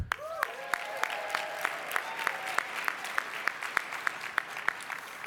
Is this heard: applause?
yes